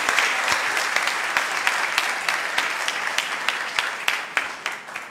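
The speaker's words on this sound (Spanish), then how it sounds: "otro aplauso para el corporativo, porque hoy estamos de fiesta" Audience applause for a corporate team at a festive business meeting, a dense, lively crowd clapping close by, sustained throughout with individual sharp claps punctuating the steady roar.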